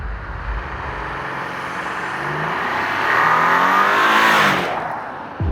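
An Audi A8 D5 luxury limousine weighing 2,340 kilos, a plug-in hybrid with a 17.9 kWh battery, accelerates hard: a loud, close engine note swells and climbs steadily before cutting off abruptly.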